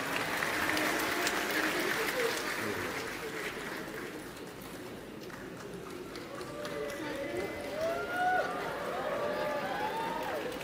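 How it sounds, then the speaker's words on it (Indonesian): Applause from an audience at a stage event, mixed with the bustle of the crowd and people talking over it, runs for about ten seconds at a moderate, fairly steady level. "kasih tepuk tangan yang meriah buat Zia."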